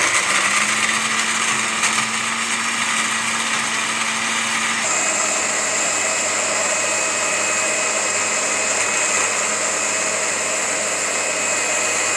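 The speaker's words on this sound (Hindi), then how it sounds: "अब हम इसे इस डिब्बी में डाल के ग्राइंड कर" Electric grinder milling roasted spice masala in a small jar, a loud continuous whirring drone that shifts pitch partway through and holds steady to the end, with no talking.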